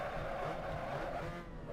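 Race car engine held at high revs on the Monza circuit in a racing video game, a steady droning whine with faint tire noise, constant and fairly quiet throughout.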